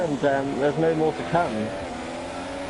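Engine of a race car in a racing video game on the Baku street circuit in Azerbaijan, revving up and held at the rev limit in eighth gear, with a commentator talking over it.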